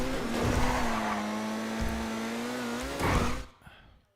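Race cars in a Grand Theft Auto Online race roar past with a sustained engine tone that rises near the end, then cuts off abruptly.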